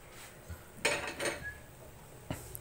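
Spaghetti and meatballs are stirred in a pot, with a few scraping and clanking utensil strokes against the metal, quiet and close, separated by short pauses.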